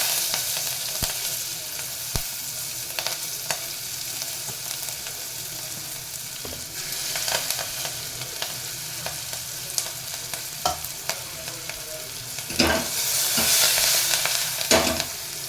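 Onion, green chili and curry leaves fry in a hot pan with a steady sizzle, broken by occasional scraping stirs and louder crackling bursts near the end, close-up with no talking.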